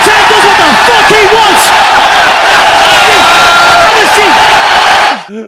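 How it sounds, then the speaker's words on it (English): A Salt Lake City arena crowd roars and cheers loudly and continuously, a dense wall of noise with shouts poking through, before the sound cuts off abruptly at the end. "listen to Salt Lake City cheering"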